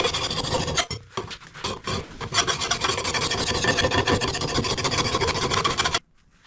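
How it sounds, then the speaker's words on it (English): Hand file sharpening the blade of a 2003 Toro 20017 lawn mower, loud close rasping strokes in a fast continuous rhythm with a couple of short breaks, stopping abruptly near the end. "Going to do a quick blade sharpening here, just with the old file."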